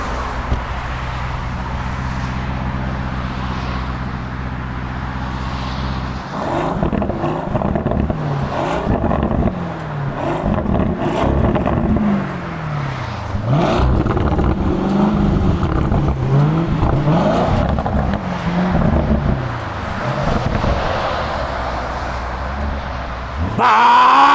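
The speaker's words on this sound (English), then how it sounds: "Can you step on it a bit, Frankie?" A 650 HP Lamborghini Urus SUV runs at a steady idle drone, then accelerates hard with loud, rising and falling engine revs heard from inside the cabin as the gears shift, before settling back down near the end.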